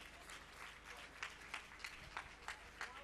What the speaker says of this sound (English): Can we continue with the applause until she's seated?